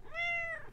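A single cat meow played from a soundboard, a clear, close, drawn-out mew that rises and falls over less than a second with no talk over it.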